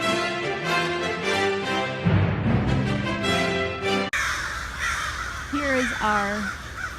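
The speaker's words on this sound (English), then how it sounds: "owl being harassed by hundreds of crows" Many crows caw loudly and repeatedly in a woodland while mobbing an owl, harsh overlapping calls filling the scene with a dense, continuous clamor.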